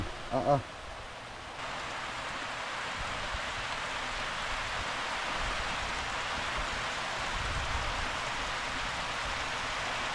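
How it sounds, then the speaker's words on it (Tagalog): Sudden heavy downpour on a farm beside a fish pond, a steady dense hiss of rain that holds loud and constant throughout, with a brief burst of voices at the very start. "Biglang lumakas ng ulan."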